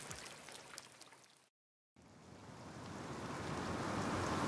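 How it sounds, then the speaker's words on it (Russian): Rain in the video game Detroit: Become Human, a steady hiss that cuts out briefly to silence, then returns and swells louder, with no talk. "там дождь, постоянно дождь."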